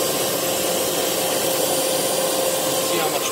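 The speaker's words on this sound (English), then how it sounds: "let's turn up the suction dial to maximum and power the machine on" A Miele U1 upright vacuum cleaner runs with the suction dial at maximum, a loud, steady broadband roar that holds unchanged throughout with no talk over it.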